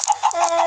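Chickens in a Minecraft automatic chicken farm cluck in quick, short bursts, several rapid calls in under a second, fairly close and moderately quiet, with no talking.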